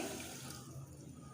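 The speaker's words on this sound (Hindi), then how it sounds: "जेली बनाने के लिए पैन में 1 कप पानी डाल लेंगे" One cup of water poured into a cooking pan to make jelly, heard as a steady, soft splashing stream that runs continuously without speech.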